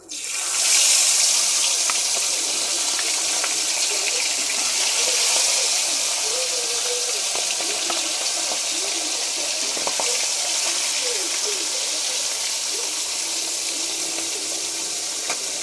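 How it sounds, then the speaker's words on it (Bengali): Small hilsa fish frying in hot mustard oil in a kadai, a steady loud hiss and crackle running throughout, bursting up at the start as the fish goes in. "এবার আমি মাছটা দিয়ে দেব।"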